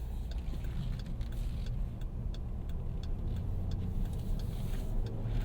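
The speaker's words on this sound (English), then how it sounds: "And does that Hemi sound good?" A 2022 Dodge Durango R/T with a Hemi V8 rolling slowly, a low steady engine rumble and road drone heard from inside the cabin, even and continuous with faint ticks above.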